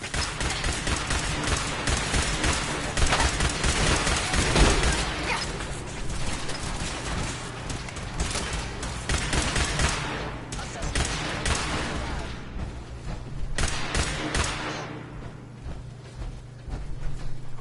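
Gunfire in the video game Fallout 4, a dense burst of rapid shots and mechanical clatter running throughout, loud and close, with brief game character voices mixed in.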